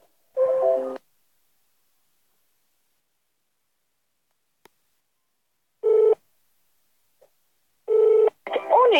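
A phone call being placed produces a few separate electronic telephone tone bursts with silence between them, and a voice comes in briefly at the end.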